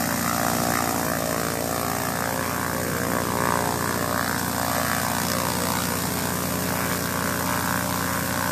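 Steady, loud droning of a small propeller plane engine at a Rioverde airstrip, holding a constant buzzing pitch throughout as it powers up for takeoff.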